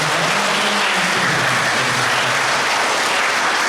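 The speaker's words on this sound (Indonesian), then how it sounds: "Kita beri tepuk tangan." Worshippers at a Christmas morning mass in a Catholic parish in Pemalang give a round of applause, a loud, dense and continuous crowd clapping filling the whole stretch.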